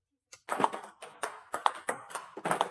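Table tennis ball brushed with tacky, grippy rubber on repeated backhand rips: a series of soft, dull taps in a steady rhythm, close and quiet, without crisp clicks.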